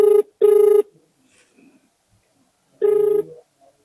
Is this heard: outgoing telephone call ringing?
yes